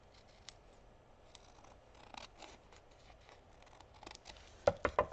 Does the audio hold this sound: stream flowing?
no